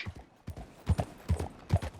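Horse hooves in the video game Red Dead Online: a steady clip-clop of hoofbeats, up close and fairly loud, each pair of strikes landing in an even rhythm.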